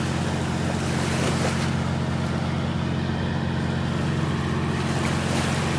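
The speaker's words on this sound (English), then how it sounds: "That noisy old barge pumping away" A loud, constant low mechanical drone of a dredging barge pump churns on steadily at Wiggins Pass, North Naples, Florida, mixed with wind and water wash, with no talking.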